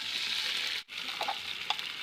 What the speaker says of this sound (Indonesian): Selanjutnya kita tumis 1 siung bawang putih dan bawang merah yang sudah dihaluskan.